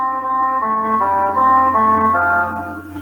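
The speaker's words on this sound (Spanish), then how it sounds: "me da la fórmula abreviada del quinto modo, que se llamaba tritus auténtico" A solo voice sings a short Gregorian chant formula of the fifth mode, tritus authentic, a smooth sustained melodic line moving through several steady pitches, close and clear.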